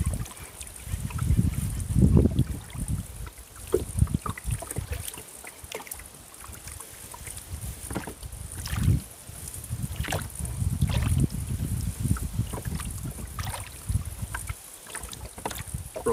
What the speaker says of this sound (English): Rowing backwards, I'm leading with the rudder